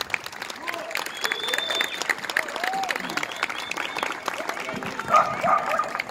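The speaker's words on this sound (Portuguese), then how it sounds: "Uma salva de palmas para o Pitanga," Audience clapping at a film festival screening presentation for the film Pitanga in Campo Grande, a steady dense patter at moderate level with voices and whoops mixed in and a louder swell near the end.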